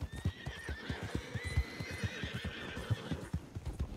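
Horse neighs and whinnies over a steady, rapid clip-clop of hooves in a video game, with the whinnies rising and falling above the dense hoofbeat rhythm for the whole stretch.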